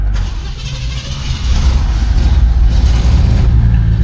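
A 1971 Chevrolet Monte Carlo starts from cold, and its engine catches partway through and settles into a loud, steady rumbling idle, close up with no talking.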